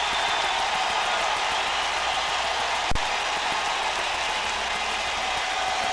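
A broadband, steady crowd roar fills Candlestick Park as Willie McCovey stands before the dugout waving his cap, sustained at an even level with one sharp thump near the middle.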